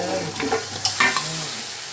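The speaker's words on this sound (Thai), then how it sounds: "เราเคี่ยวน้ำตาลได้ที่แล้ว เราก็จะหมูลงผัดเลยนะทุกคน" Marinated pork goes into a pot of caramelized, simmered sugar and is stir-fried for Thai braised pork leg, giving a loud close sizzle with scraping stirs and a few sharp clatters.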